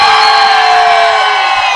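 A studio audience cheers for the Kansas City Chiefs, a loud, sustained roar of voices and whoops that holds steady with no break, close and dense.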